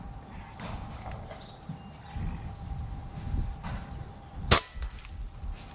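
A Niksan Ozark-TS PCP air rifle fires once outdoors while hunting, a single sharp crack standing out against steady wind and ambient outdoor noise.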